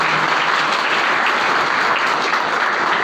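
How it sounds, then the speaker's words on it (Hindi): Audience applause welcoming guests at an annual results distribution ceremony, a dense, steady roar of many hands clapping that stays loud and even throughout with no talk over it. "तो एक बार सभी लोग तालियां बजाकर स्वागत करें।"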